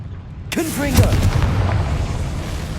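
Confringo fire blast spell cast in Hogwarts Legacy, a sudden loud whooshing burst with a fiery crackle and a rumbling boom that lingers and fades, inside a mine.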